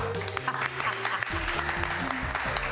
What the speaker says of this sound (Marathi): त्यामुळे सगळ्यांनी टाळ्या वाजवा.